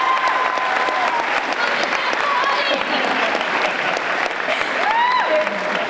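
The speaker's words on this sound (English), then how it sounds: "I think that deserves an applause" Sustained audience applause fills a Comic Con 2010 panel hall for a Stargate Universe session, steady clapping with crowd cheers and whistles rising near the end, loud and close throughout.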